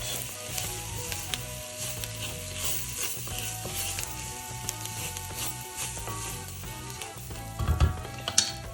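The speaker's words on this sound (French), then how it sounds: "J'ajoute maintenant les lentilles corail et je vais les laisser revenir environ 2-3 minutes" Coral lentils sautéing in the bottom of a cast-iron cocotte, a bright steady sizzle with rattling, clicking stirs throughout and a louder scrape near the end, close and without talk.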